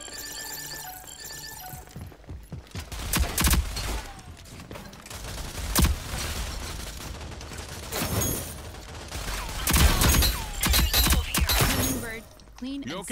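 Gunfire in the video game Rogue Company, bursts of rapid shots and impacts rising and falling over about thirteen seconds, mixed with a player's voice talking.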